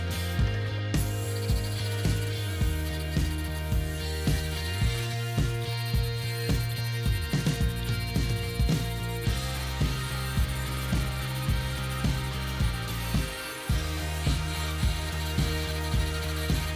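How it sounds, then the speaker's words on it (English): Angle grinder working on the wing panel of a Ford Escort MK1 during car restoration, a steady close motor drone with a regular pulsing, grating rhythm throughout, no talking. "So put the grinder on that now"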